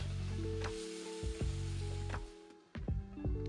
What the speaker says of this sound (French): On couvre et on laisse fondre les tomates en remuant de temps en temps pendant 10 minutes.